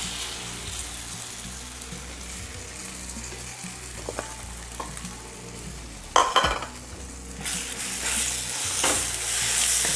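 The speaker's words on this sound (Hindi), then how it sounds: "मटर को हमें अच्छे से भून लेना है।" Ground green peas roast with gram flour in a pan, making a continuous soft sizzle under repeated scraping of a spatula. A louder clatter of utensil against pan comes past the midpoint, with no talking.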